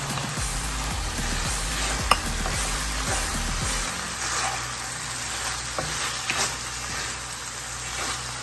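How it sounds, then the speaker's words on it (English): Onions and garlic sautéing in a hot pan for a steak and vegetable stir fry, a steady close sizzle with stirring and a few utensil knocks, with no talk. "Now add in the onions and garlic mix."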